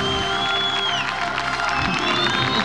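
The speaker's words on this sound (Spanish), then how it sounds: "¡Fuerte el aplauso para él!" Studio audience on a 2006 Argentine TV show cheers and applauds a footballer's entrance, a dense continuous crowd roar with whistles over it, steady and loud throughout.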